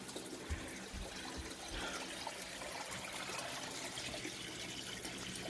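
Water sprinkled by hand over seedlings in germination trays makes a steady, soft trickling and splashing that runs evenly throughout at moderate level, with no voices.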